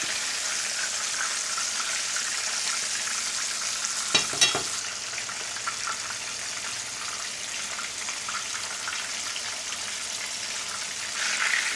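Fresh reef fish shallow-frying in canola oil at about 350 degrees sizzles loudly and continuously up close, broken by a brief clatter of the pan or utensil partway through, with no one speaking.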